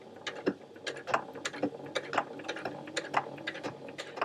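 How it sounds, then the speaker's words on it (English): Sewing machine stitching a small quilted fabric keyring, a rapid, uneven mechanical clatter of short ticks running close throughout. "the machine should be fine sewing again"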